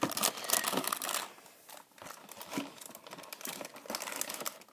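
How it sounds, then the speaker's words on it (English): A toy Lamborghini Murcielago model car being unwrapped from its plastic wrapper, with faint, close crinkling and rustling in uneven bursts. "Oh, it's in plastic wrapper. So let's take it out."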